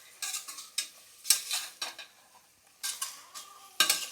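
A spoon scraping and stirring spiced masala rice with oil in a metal pan, heard as quick bursts of clinking and scraping in uneven strokes, close and fairly quiet, with a soft sizzle between strokes.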